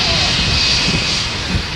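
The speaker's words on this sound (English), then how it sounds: "This plane just pushes you with a jet blast and you go flying." A jet airplane roars low overhead at Maho Beach, Saint Martin, a loud, continuous broadband blast of engine noise with wind, filling the whole moment at close range.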